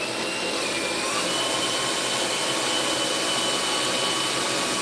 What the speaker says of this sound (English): I'm gonna drill the pilot holes